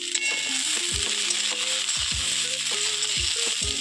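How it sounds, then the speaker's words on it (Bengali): Potatoes and pointed gourd frying in a pan for misti kumror chokka, a steady sizzle running throughout with occasional low knocks and scrapes of stirring. "দেখুন আলুটা পটলটা বেশ ভালোভাবেই ভাজা হয়ে গেছে"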